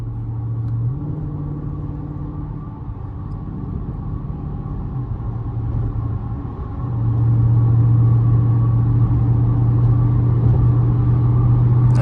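A 500-horsepower Dodge Scat Pack driven hard on a highway gives a steady, loud engine rumble with a low drone that swells into heavier revving about two-thirds through, with road noise underneath and no voices.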